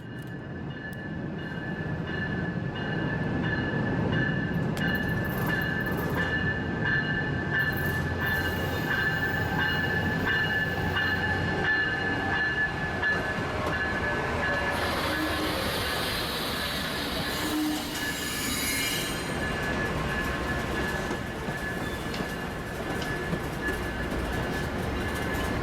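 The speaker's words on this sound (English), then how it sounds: "At 10:42, the coaster departed as train 673." Coaster commuter train 673 pulling away near San Diego, a steady loud rumble of rolling wheels and rail noise with a sustained high squeal, continuous for the whole stretch, no voices.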